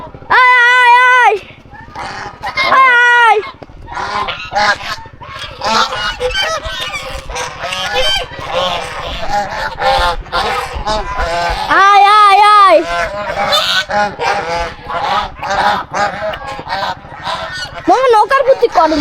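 Geese at a large pond honk loudly and repeatedly, nasal calls rising and falling in overlapping bursts close by, with a human voice mixed in among them.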